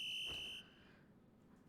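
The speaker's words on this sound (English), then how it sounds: "So it beeps every time I do that." A beeping alarm in a PC video game sounds as one sustained high electronic tone that cuts off partway through, leaving quiet background.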